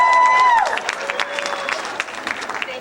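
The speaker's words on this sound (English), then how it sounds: "And again, a round of applause for our last recipient." An audience at a high school academic letters night applauds an award recipient with steady clapping in a hall, and a voice speaks briefly over it at the start.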